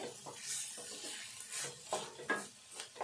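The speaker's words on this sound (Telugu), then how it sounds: "కొంచెం స్టవ్ సిమ్లో పెట్టి ఇదంతా దగ్గరికి వచ్చేదాకా ఫ్రై చేసుకోవాలి" A mixture for spicy karam garjalu is stir-fried in a pan over a low flame. A spatula scrapes and stirs in soft, irregular strokes, with light sizzling and small metallic clinks, all quiet and close.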